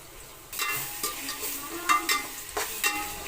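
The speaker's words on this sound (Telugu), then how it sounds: "కొంచెం ఫ్రై అవ్వాలి బాగా. అల్లం పేస్ట్ వేయాలి." Ginger paste frying in a pan for chicken biryani, a close steady sizzle with bright crackling bursts as a spoon stirs and scrapes through it, no voices.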